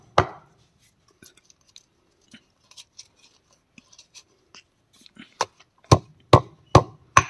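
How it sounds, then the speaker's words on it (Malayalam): A stone pestle pounds food in a kitchen, at first with a scatter of light, irregular knocks and then with several heavy, evenly spaced thuds close by. Nobody talks. "സോഫ്റ്റ് എടുത്ത ശേഷം ആദ്യം ഇടികല വെച്ച് ചെറുതായിട്ടൊന്ന് ഇടിച്ചെടുക്കണം."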